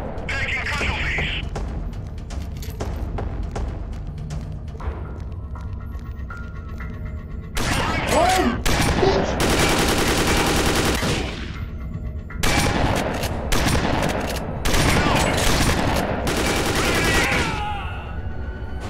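Bursts of gunfire in the VR shooter Dead Effect 2 VR, loud and dense in the back half after quieter stretches, mixed with game sound and talking voices.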